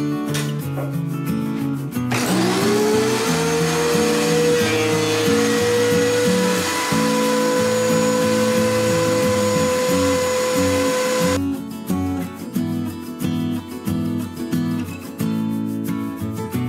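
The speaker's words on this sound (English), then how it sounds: "run this stuff through the thickness planer" A thickness planer runs lumber through, rising into a loud, sustained whining roar as the board feeds, then dropping back to a rougher motor hum. No one speaks over the steady machine noise.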